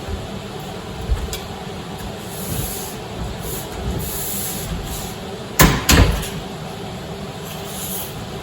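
Metal drip cap flashing for an exterior door is rolled to a full 90 degrees, with a steady hiss of room noise throughout and two sharp, loud metallic clacks in quick succession near the end, plus a fainter knock earlier.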